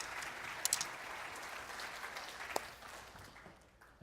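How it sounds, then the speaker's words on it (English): An audience applauds volunteers in a dense, steady clapping that tapers off toward the end, with a few sharper claps standing out. "All 5 of them, give them a round of applause"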